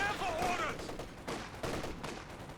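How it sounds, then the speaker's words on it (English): Gunfire from a pair of snipers in the World War II strategy game Company of Heroes 2, heard as repeated sharp shots over dense battle noise, with a voice talking over parts of it. "Double snipers picking away."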